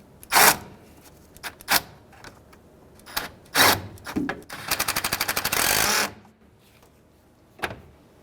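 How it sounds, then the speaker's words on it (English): A hand ratchet tightens a nut on a battery terminal of a Honda Element, giving short clicking bursts and then a longer, fast even run of clicks, close and crisp, with brief handling knocks between and no talking. "I had a ratchet nearby just to make sure we're tight"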